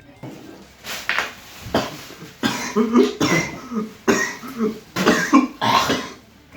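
Harsh repeated coughing after inhaling from a cigarette alternative, several bursts in a row close to the mic, with people talking in between.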